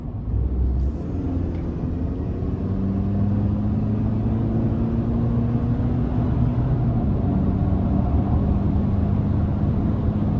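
A 2022 GMC Sierra 1500 Pro with a 2.7L turbo four and eight-speed transmission accelerating, its engine drone climbing steadily through a gear change, heard from inside the cab without talk.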